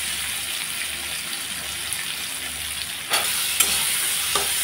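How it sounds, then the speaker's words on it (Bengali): Eggs frying in mustard oil crackle with a steady, close sizzle, and a few sharp clinks of a spatula or pan come through near the end. "এখন ভেজে নিচ্ছি ডিম"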